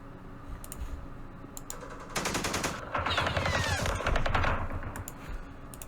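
Gunfire in the Campaign Series Vietnam strategy game, Battle of Hue, with scattered clicks, then bursts of rapid automatic fire and overlapping shots building over a few seconds.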